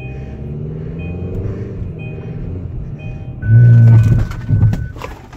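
A 2016 Kia Optima SXL drives at night with a steady low cabin hum and short electronic warning tones, then a loud, heavy rumble surges for about a second as the car brakes hard on its own, easing off afterward.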